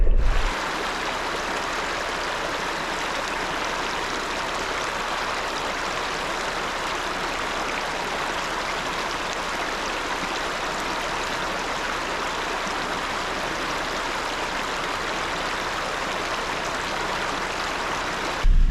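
Indian Creek flowing beside a dirt road in the Ozarks, a steady broadband rush of running water holding even and fairly loud throughout, with no voices.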